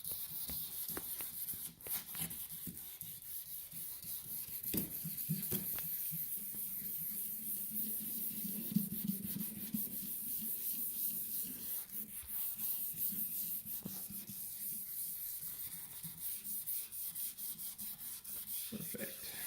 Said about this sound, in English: We'll go back over it again with another new sanding block here.